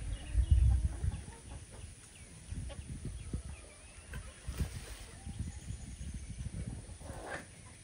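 On a farm, chickens cluck in soft, scattered bursts, with low rumbling background noise and a faint voice underneath.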